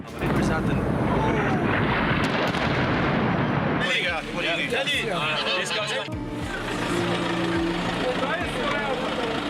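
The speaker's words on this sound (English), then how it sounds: "Explosion right there." Loud, rumbling blasts and heavy booms, like an explosion amid gunfire, during fighting against Islamic State in Raqqa city, with a harsh roaring wash of noise throughout.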